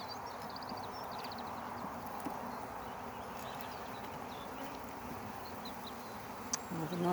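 A dense swarm of dark honey bees hums steadily from an open hive frame of brood during a spring move to a new box, forming a continuous near buzz with a brief louder rise at the very end.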